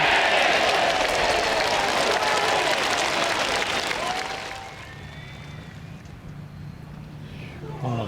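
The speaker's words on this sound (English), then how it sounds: "they're going to hear that cheer all over the Wentworth estate" A golf gallery at Wentworth roars and applauds after an eagle at the BMW PGA Championship, loud and dense at first, then fading to scattered clapping and murmur; a commentator speaks over the tail end.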